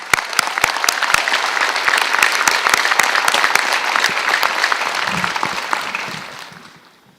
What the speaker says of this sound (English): let's have a round of applause for all of our faculty